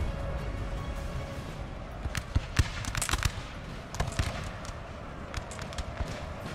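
Musket volleys in Napoleon: Total War crackle in scattered sharp pops and clustered bursts over a steady low battlefield rumble, mid-distance and moderately loud, with no talk.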